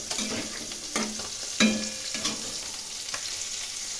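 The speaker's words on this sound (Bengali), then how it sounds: "ভালো করে কষিয়ে নেব।" Ginger-tomato paste being sautéed and stirred for a fish curry, a steady close sizzle and frying hiss broken by a few soft scrapes and stirring knocks, no voices.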